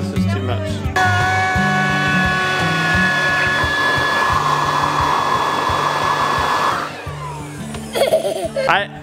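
A new leaf blower roars steadily at close range for most of the stretch, a loud sustained whine with a rushing air hiss, then cuts off near the end as a voice comes in.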